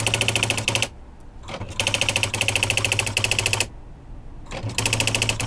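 A 1980s TTX daisy wheel printer types in fast rattling bursts of hammer strikes, loud and close, broken by brief quiet gaps between lines.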